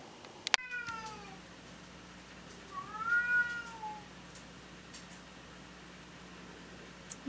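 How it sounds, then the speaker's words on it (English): A female house cat gives a single drawn-out meow in a quiet room, preceded by a brief click, over a faint steady hum. "Suddenly the cat just decided to talk."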